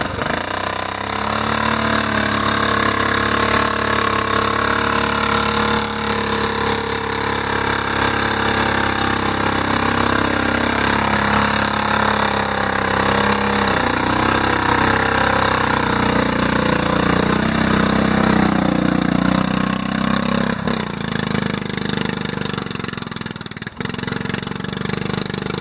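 A Murray engine drones loud and steady at close range while riding a woods trail, its pitch rising and falling a little and easing off near the end.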